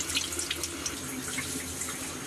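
Tap water running into a sink while salted fish is washed, a steady close splashing flow with small drips and light handling noises, no talking.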